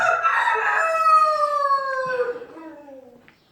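A single bilek rooster crows one long, drawn-out call close by, its pitch sliding down as it fades at the end.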